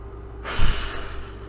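A person exhales once, a short, breathy rush of air up close, during a demonstration of breathing for shooting at the natural rest point, with no talking over it.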